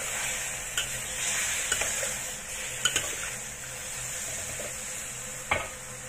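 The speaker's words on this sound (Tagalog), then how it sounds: "mix lang natin yan hanggang sa magkakulay yung karne" Beef stir-frying with mountain pepper, a steady close sizzle with a few sharp clinks of a utensil against the pan scattered across the stretch.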